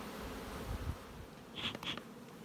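Honey bees in a hive hum softly in a low, continuous drone, with a couple of brief higher buzzes passing close by, no voices.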